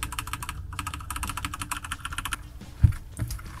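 A Corsair K65 RGB Rapidfire keyboard with Cherry MX switches is typed on in rapid, close, dense clicking bursts that slow to a few scattered key presses and a single louder thump near the end.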